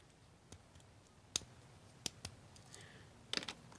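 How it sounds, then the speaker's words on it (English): LEGO clicky joint pieces for spaceship windscreens click several times in quick, irregular succession, small crisp ticks close by in a quiet room, with a brief cluster of clicks at the end. "now the two main kinds of connections for windscreens are going to be these clicky joints"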